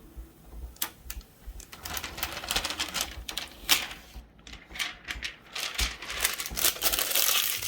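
Protective film peeled off an Anycubic Ultrabase glass printer bed on an Anycubic i3 Mega S 3D printer, a run of crackling, ticking rips and crinkles, close and fairly loud, with no talk.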